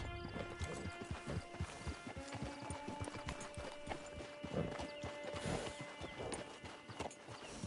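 Horse hooves clip-clop steadily in the video game Red Dead Redemption 2, a dense run of close, crisp hoofbeats over a low ambient bed, with no talking.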